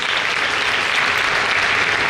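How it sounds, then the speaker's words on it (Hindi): Loud, dense applause from a congregation at a day-long prayer and healing worship service, a steady wash of many hands clapping with no pauses, close and filling the space. "चलो खुदा की अजीम खात्मा के लिए जोरदार तालियां बजा दें।"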